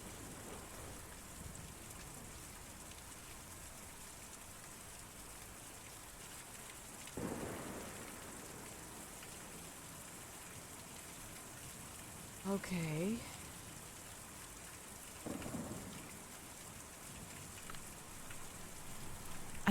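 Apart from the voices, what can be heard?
rain and thunderstorm in the video game Kentucky Route Zero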